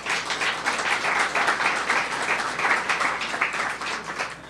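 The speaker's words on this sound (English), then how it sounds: "Let's give them a round of applause." An audience claps steadily and loudly for staff at a mayoral press event on anti-human trafficking initiatives, with sustained dense applause filling the whole stretch and no talking over it.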